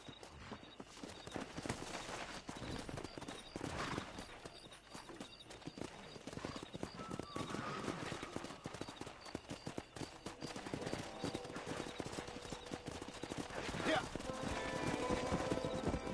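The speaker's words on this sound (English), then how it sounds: "That ranch hand said there's a pack of wild horses nearby." Horses gallop in the Red Dead Redemption video game as a herd of wild horses is approached, with continuous rapid hoof clip-clop, occasional whinnies and bursts of gunfire under game music and effects.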